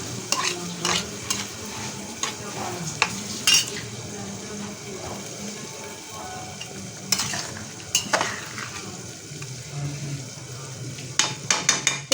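Spices and chickpeas sauté in a pot for chickpea biryani, a low sizzle broken by repeated scrapes and clinks of a metal spoon stirring against the pot, close by.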